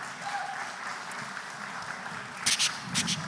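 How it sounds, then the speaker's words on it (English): Continuous crowd clapping at a live developer challenge event, a steady wash of applause with a few sharper, louder bursts of nearby claps toward the end. "And applause for Axway."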